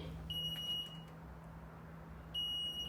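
A home alarm system gives a steady high-pitched beep for about a second, stops, then starts again near the end over a low hum.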